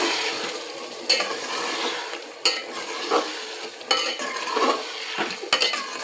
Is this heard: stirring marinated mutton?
yes